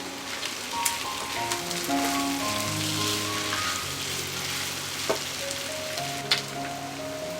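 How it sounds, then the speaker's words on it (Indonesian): Potatoes and chicken liver and gizzards fry in spice paste with a little thick coconut milk, giving a steady soft sizzle throughout, with a few sharp pops and the occasional scrape of stirring in a pan close by. "aduk-aduk ya bun supaya bumbu halusnya menyelimuti semua kentang dan ati ampelanya"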